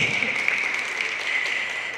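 Audience at a peace forum event clapping steadily, a sustained patter of applause from a seated crowd filling the brief moment without pause.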